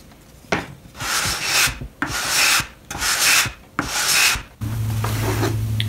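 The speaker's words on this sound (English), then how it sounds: "Now that the frame is glued up, I'm sanding it down flat." A glued-up wooden frame for a crank organ is sanded flat by hand in four long rasping strokes with short pauses between, close and clear, followed by a steady hum.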